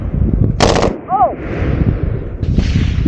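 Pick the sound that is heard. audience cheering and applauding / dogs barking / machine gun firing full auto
machine gun firing full auto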